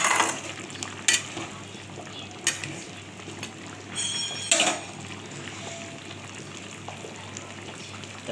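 Fish curry with dried mango and mustard simmers in a pan, a soft continuous bubbling with a few brief louder clinks and stirs scattered over it.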